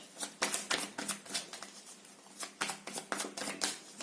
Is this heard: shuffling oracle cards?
yes